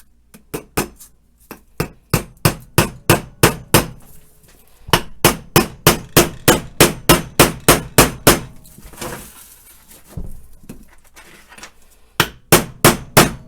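A hammer strikes a finishing nail into birch logs for an easel in rapid, sharp blows, bursts of around a dozen hits separated by short pauses, close and alone.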